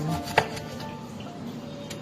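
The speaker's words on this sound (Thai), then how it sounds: "ล้างส้มให้สะอาดก่อนนะคะ จากนั้นก็นำมาหั่น" A knife slices through an orange with one crisp thud on the cutting board, followed by a fainter second cut in a quiet kitchen.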